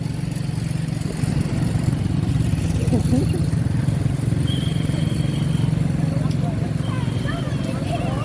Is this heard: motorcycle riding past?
yes